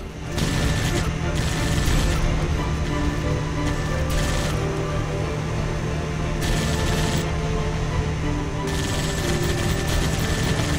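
A mounted gun fires in Halo Spartan Strike in long sustained bursts of rapid automatic fire, loud and dense throughout, with brief pauses between bursts.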